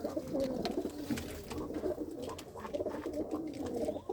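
Pigeons in a dim loft coo in soft, overlapping low murmurs that run steadily throughout, close by and fairly quiet, with no talking.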